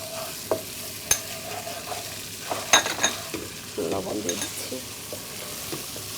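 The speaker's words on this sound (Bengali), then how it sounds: "আমি নাড়তে থাকি আপনি মশলাগুলো আমরা মশলাগুলো কষিয়ে নিই" Spice paste with garlic paste is stirred and sautéed in a pan, giving steady scraping strokes over a soft sizzle, with a few sharper clinks, close and moderately loud.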